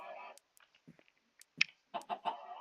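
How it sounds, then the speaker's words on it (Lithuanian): A chicken in the video game Minecraft clucks in a few short, scattered bursts separated by quiet gaps, fairly close and clear with no talking. "Toj vištelė, palauk."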